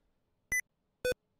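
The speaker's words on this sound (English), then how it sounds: "Sorry, I keep hitting my caps lock." Two short electronic computer beeps, set apart by about half a second and close and clean against near silence, come from pressing the caps lock key.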